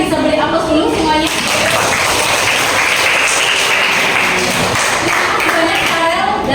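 Audience applause from a group of teachers in an Indonesian classroom coaching session, steady and dense clapping that fills the whole stretch at close range, with faint voices mixed underneath.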